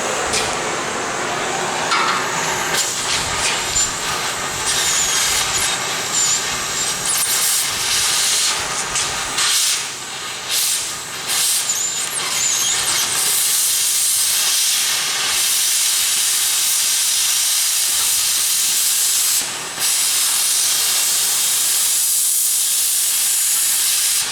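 Torch cutting off the head of a seized leaf-spring shackle bolt, a loud, steady roaring hiss that runs unbroken for about twenty-four seconds with brief dips, close by and alone without any talk.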